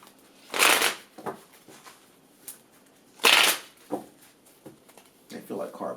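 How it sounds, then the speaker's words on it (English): A tarot card deck is shuffled hard by hand in two loud, bursting riffles with softer taps and rustles of cards between them, close up and clear of any talk. "I'm getting angry with these cards, so I'm shuffling harder."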